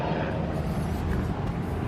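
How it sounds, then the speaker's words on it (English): Tour helicopters on a flight path pass overhead, a loud, steady rotor and engine drone filling the whole short stretch with a low rumbling wash. "you will get the helicopters coming over, because it is on the flight path for those helicopters"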